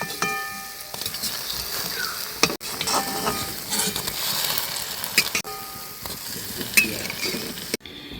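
Gulab jamun balls made with milk powder fry over a low flame with a steady oily sizzle. A spatula scrapes and taps the pan now and then, and there is no talking.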